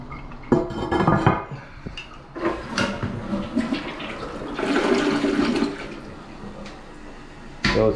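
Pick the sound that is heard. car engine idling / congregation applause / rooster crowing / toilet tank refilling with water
toilet tank refilling with water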